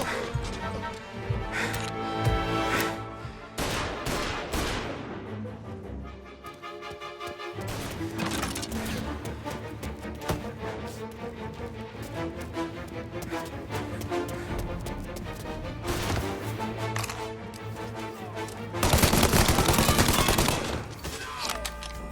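A shootout with rapid bursts of gunfire cracking in dense volleys, broken by short pauses and building to a heavy barrage near the end, while voices shout over the shots.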